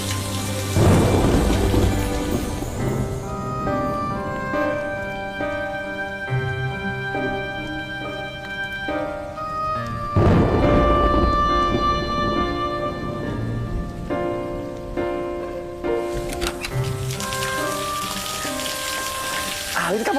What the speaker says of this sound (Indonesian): Belum juga ini lagi hujan.